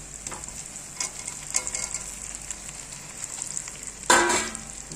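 An egg cooks in a pan with fried onions, giving a steady close sizzle with a few stirring knocks. Near the end, a sudden loud hissing burst rises as a little water hits the hot pan.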